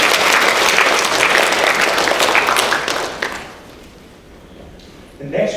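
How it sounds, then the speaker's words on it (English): Audience applause at a Chinese alumni club panel event rings out loudly for about three seconds, then fades away, and a voice starts talking near the end. "Ladies and gentlemen, a strong, warm round of applause for Arthur."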